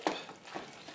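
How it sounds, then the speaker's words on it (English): Mac and cheese being stirred with butter in a pot, a faint, soft scraping and swishing with one brief clack near the start, quiet and close with no talking. "Mix it up."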